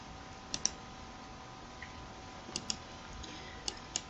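A computer mouse gives a handful of quiet, crisp clicks, several in quick pairs, spaced irregularly over a faint steady hum.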